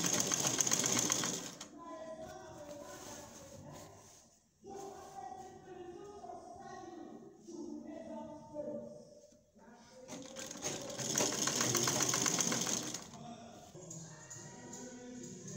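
Sewing machine stitching through pleated fabric for a bubu dress, running in two loud bursts at the start and again near the end, with quieter handling and shuffling sounds in between.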